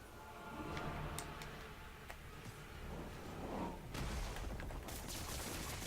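Gunfire in a Spider-Man video game, bursts of sharp shots and rattling volleys over a dense, noisy game soundtrack, growing louder and busier toward the end.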